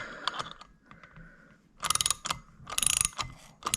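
Metal clicks and ratcheting clatter from a valve spring compressor squeezing springs on a Honda K20 cylinder head for an RSX. The sounds come in close, irregular bursts with brief pauses between them.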